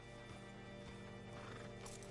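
A horse in Red Dead Redemption 2 whinnies over clip-clopping hooves, a continuous, fairly faint mix of neighing and hoofbeats heard alone.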